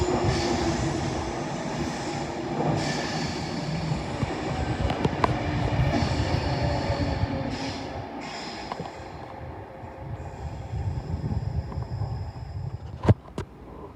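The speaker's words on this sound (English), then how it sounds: "Avanti West Coast service to Glasgow Central via London." An Avanti West Coast train heading toward Glasgow Central rumbles past at Primrose Hill, a steady low rolling roar with clacking wheels and brief metallic squeals, fairly close and continuous.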